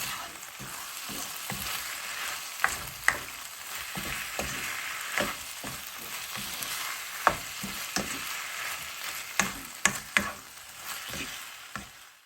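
Garlic frying in a pan for beef with bitter melon, giving a steady close sizzle with scattered sharp crackles and stirring taps throughout, with no voices.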